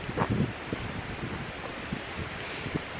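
Wind blows along a backpacking trail near Pictured Rocks, a soft steady rush through leaves with light microphone buffeting and a few faint thumps, fairly quiet.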